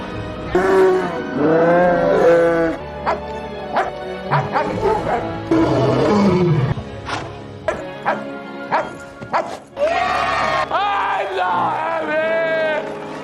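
Dog barking in a scene from the movie Anchorman, several loud yips and barks scattered across the scene, mixed with excited shouting voices and crowd noise.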